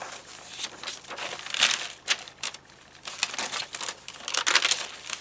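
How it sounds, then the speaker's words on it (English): Ledger paper in a handmade botanical journal being handled and turned, giving repeated crinkling rustles and soft crumpling bursts, close and fairly quiet, with no talking. "Some more of that ledger paper."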